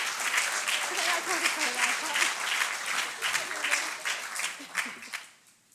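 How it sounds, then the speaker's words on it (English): Audience at the American Courage Awards applauds as a presenter comes to the stage, dense clapping mixed with cheering voices and chatter, tapering off into quiet at the end. "So Crystal, please come up to the stage, give her a big round of applause to present the American Courage Award."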